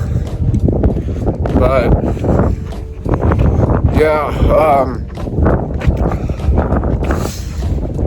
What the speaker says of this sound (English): It's cold out. It's windy.